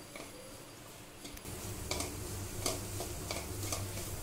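Onion, chili, ginger and softened peas being fried and stirred for a filling, an even sizzle with a series of scraping spatula strokes against the pan, fairly quiet and close.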